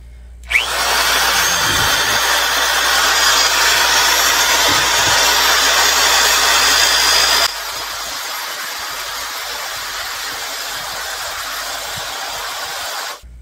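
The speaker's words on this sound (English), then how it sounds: "I'm just going to use this paint mixer" A paint mixer on a drill whirs loudly and steadily through bee feed for several seconds, then keeps running at a lower, slightly duller pitch until it stops abruptly; no voices are heard.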